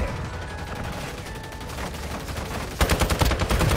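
Automatic gunfire from the Warzone Mobile shooter game, rapid bursts of shots that grow louder and denser near the end over a continuous game background, with no one talking.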